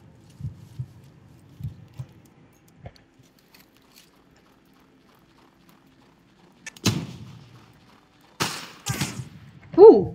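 Gunfire during a fort raid in the survival game Northwind: faint, sparse low thumps early on, then a few sharper bursts of shots closer by, with players talking between them.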